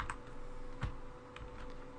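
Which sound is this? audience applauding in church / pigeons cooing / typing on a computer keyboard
typing on a computer keyboard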